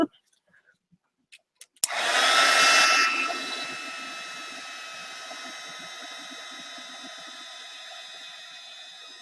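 A hair dryer switches on after a few small clicks and taps, blasting loud and steady over a mixed media art journal page, then settling into a slightly softer continuous whoosh that runs to the end.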